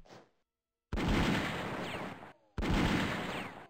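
Two long bursts of heavy massed gunfire from a Xinhai Revolution battle in Battle of Empires, loud dense volleys with rumbling low end, separated by short gaps of silence, with a faint voice at the very start.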